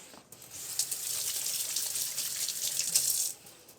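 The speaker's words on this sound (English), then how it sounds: "a little hand wash for me" A kitchen tap runs steadily while hands are washed beneath it, a close hissing gush that starts abruptly and stops after about three seconds, with no talk.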